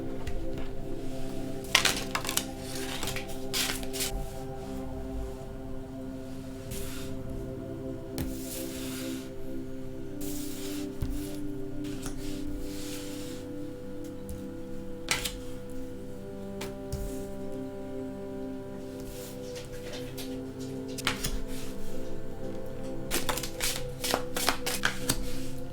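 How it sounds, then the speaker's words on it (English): A tarot card deck being shuffled on a table, with soft riffling, sliding and tapping of cards in irregular bursts, close and moderately quiet, going on for a long stretch with no voice. "I'm just going to start shuffling the deck"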